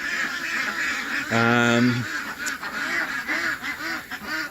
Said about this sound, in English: So most of you know I do have ducks.